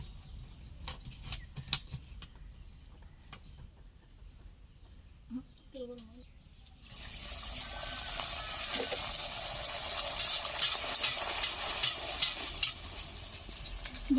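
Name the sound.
semolina luchi frying in hot oil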